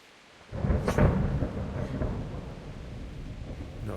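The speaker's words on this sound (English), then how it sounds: "Not afraid of thunderstorms, are you?" Thunder rolls during a thunderstorm in the video game Kingdom Come Deliverance: a sudden loud crack opening into a long rumbling tail over steady rain, with no talk.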